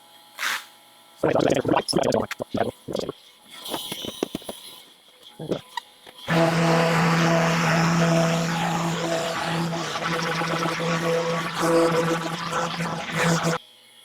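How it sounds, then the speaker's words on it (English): An Ecosand 3x5 sander works over a surface to sand out scratches, running as a steady loud whine with a tonal hum for the last eight seconds, after a stretch of speech and scattered handling knocks. "I'm gonna switch to the Ecosand sander, which is a 3x5"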